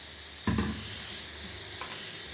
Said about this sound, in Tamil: இப்போ நூடுல்ஸ் இதில் கொட்டிக்கலாம்.